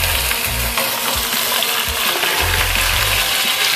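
Pieces of Kolkata restaurant-style chicken chaap fry in a pan over a medium gas flame, giving a steady, loud, close sizzle with bursts of bubbling noise throughout and no talking.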